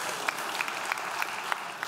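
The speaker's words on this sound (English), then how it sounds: "We got some applause in the room." Brief applause rises in a church congregation during a sermon, a short, moderately loud patter of clapping from the room with a few sharper claps standing out.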